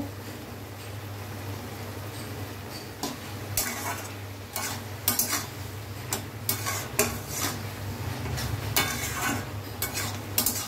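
A spoon scrapes and clinks against a pan as a potato and spinach curry with fried lentil dumplings and turmeric is stirred, the irregular metallic knocks standing out over a soft, steady frying hiss.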